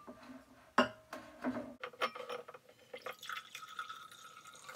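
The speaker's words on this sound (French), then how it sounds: "on récupère son pichet d'eau et on rajoute 100 ml d'eau" Water poured from a pitcher into a glass while layering a cocktail, a near, fairly quiet pour with a few splashy onsets that settles into a rising, ringing fill.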